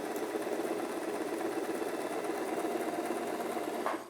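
Alfa Style sewing machine running steadily while stitching a triple zigzag, also called a rickrack stitch, a continuous close mechanical whirr with fine rapid needle ticking that stops abruptly near the end.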